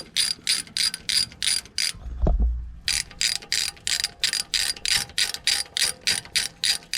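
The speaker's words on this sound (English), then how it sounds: "Undo all the nuts and bolts." A hand ratchet undoes 12mm strut bolts on a Toyota pickup, with fast steady clicking strokes close by and one short dull knock during a brief pause.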